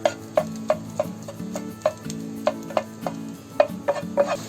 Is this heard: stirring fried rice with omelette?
yes